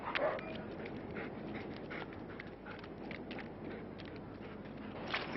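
An attack-trained guard dog struggles and pants heavily close by, with rapid breathing and scuffling paw movement running continuously through the short stretch, no talk over it.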